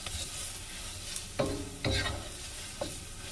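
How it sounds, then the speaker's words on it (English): Masala being stirred in a pan for karahi gosht: a soft sizzle underlies three distinct scraping strokes of a spoon against the pan, spaced about a second apart, close and fairly quiet, with no talking. "Thoroughly mix it"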